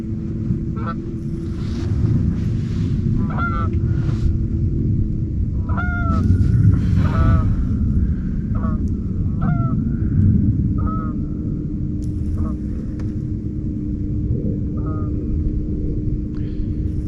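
Geese honking repeatedly in short bursts over a river while out catfishing, their calls carried over a constant low rumble of engine and wind.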